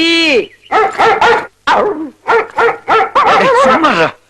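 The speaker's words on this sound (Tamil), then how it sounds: "பஞ்சாப் நாய் தான் நமக்கு ஃப்ரெண்டு பா" A dog barks in a rapid series of about eight close, loud yaps and barks with a brief whimpering tone, alone with no talk.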